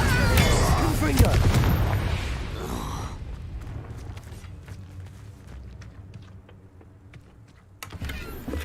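Spell blasts from the video game Hogwarts Legacy, Incendio and Confringo, a loud burst of fiery crackle in the first few seconds that fades into quieter rumbling tail, then a sharp impact near the end; a voice calls out the spell names.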